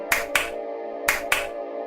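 Two quick pairs of small, crisp hand claps ring out, evenly spaced with a short gap between the pairs, close and clear over a steady low hum.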